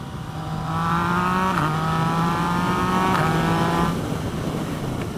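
A Yamaha FZ09 motorcycle engine holds a steady, loud drone under riding with a quickshifter, and its pitch steps noticeably at each of two quick gear changes without the drone breaking.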